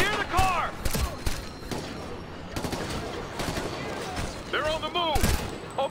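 Gunfire in the game Ghost Recon Future Soldier, sharp shots and short bursts cracking through a busy battle mix, with someone talking over part of it.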